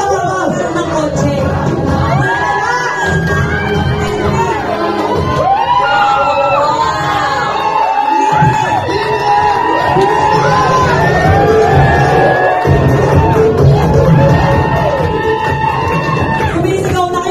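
A large crowd at a company event shouts, whoops and cheers nonstop at a loud, steady level. Excited voices overlap the whole time, and one voice can be heard speaking through the din.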